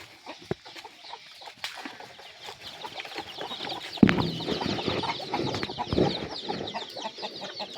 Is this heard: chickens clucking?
yes